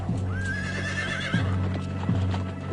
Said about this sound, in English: where the Spanish horses start to break their ankles on the huge stones